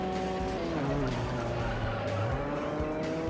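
A race car in the racing game Juiced spinning out, with engine tones sliding in pitch over sustained skidding tire squeal, loud and continuous throughout.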